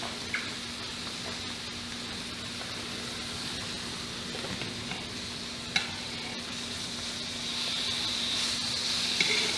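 Homemade halloumi cheese frying in a pan that's running a little too hot, with a steady close sizzle and hiss throughout that grows a bit louder near the end, plus a few faint clinks and stirs.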